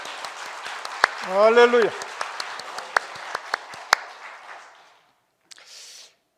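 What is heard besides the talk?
congregation applause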